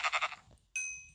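In a blocky sandbox video game, a sheep bleats in three quick wavering pulses, followed by a short clear chime-like pickup sound, heard close and alone.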